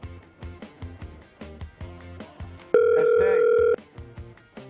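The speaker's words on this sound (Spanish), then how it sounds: "Ay, el teléfono. Me estarán llamando por ahí." A single steady electronic telephone tone sounds for about a second over a rhythmic musical backing with plucked and percussive notes.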